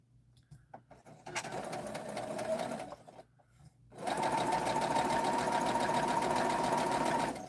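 Quilt blocks are stitched on a sewing machine: a short burst of steady whirring, a brief pause, then a longer, louder continuous run of rapid stitching, close and alone.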